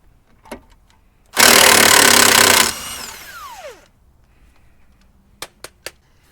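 A power tool spins off a tie rod nut on a 2010 Kia Rio in one loud, close burst of about a second, whirring down as it stops, with a few sharp metallic clicks afterward.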